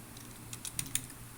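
Someone types a recipe into a word processor on a computer keyboard: a few quiet, close key clicks in a short irregular burst, with a couple of sharper taps near the end.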